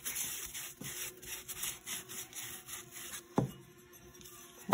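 A sponge scrubs paint off a ceramic bowl in rhythmic back-and-forth rubbing strokes, close and quiet, with a couple of sharper knocks near the end and no talking.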